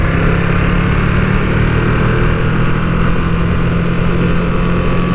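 A 2022 Ducati V2 Streetfighter with its standard exhaust is ridden at a steady pace, giving a loud, continuous engine drone mixed with heavy wind rush close to the rider.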